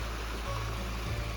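A waterfall stream at a backcountry campsite near Seneca Creek, a steady, close rushing of water that fills the clip without pause and has no voices over it.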